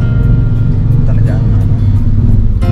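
Street traffic drones steadily, with car engines rumbling and idling close by and the odd passing vehicle, under continuous chatter.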